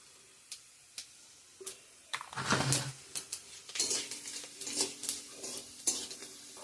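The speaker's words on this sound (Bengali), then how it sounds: "পেঁয়াজ তেজপাতা দিয়ে দিছি, পাঁচ ফোড়ন" A five-spice tempering with onion and bay leaf crackles in hot oil, with scattered pops and clatters of a utensil against the pan that build into a busier, denser sizzle midway, all close and without talk.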